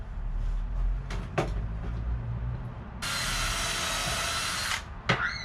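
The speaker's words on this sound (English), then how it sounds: "drill the small hole with the small drill bit" A power drill with a small bit bores a small pilot hole, whirring steadily for about two seconds after a few light knocks and clicks, close up, with a faint low hum underneath.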